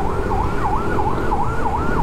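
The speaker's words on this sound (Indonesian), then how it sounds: "Mudah-mudahan nih ambulannya ada isinya ya." An ambulance siren passing on the road, a loud wailing tone sweeping up and down in a steady repeating cycle over road and engine rumble, heard close.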